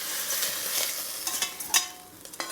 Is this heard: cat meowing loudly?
no